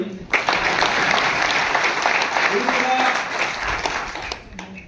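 A crowd at a farmers' meeting with the Delhi chief minister breaks into applause on cue. The clapping is loud and continuous for several seconds, with voices mixed in and a brief fade at the end.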